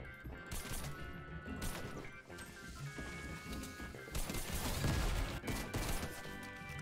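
Rapid gunfire in a custom match of a shooter video game, dense overlapping shots and bursts crackling almost nonstop at close range, swelling louder toward the end with no clear talk.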